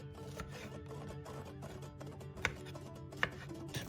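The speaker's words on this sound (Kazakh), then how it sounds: "Пиязды да дәл солай тураймыз." A knife chops onion for a spicy Japanese-style salad, two sharp, isolated knocks on a board standing out over a steady low background hum.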